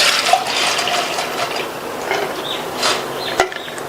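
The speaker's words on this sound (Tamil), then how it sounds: "பருப்புல உள்ள தண்ணியெல்லாம் வடிஞ்சிருச்சு." Water from lentils soaked three hours trickling and splashing through a strainer set over a vessel, a close, uneven pouring with small drips and a brief clatter near the end.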